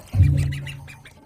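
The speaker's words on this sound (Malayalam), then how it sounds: "താറാവ് വെള്ളം കുടിക്കുന്നു." A duck drinking water in a farmyard, giving a loud, low burst of sound that fades over about a second, then a faint run of soft dabbling noises.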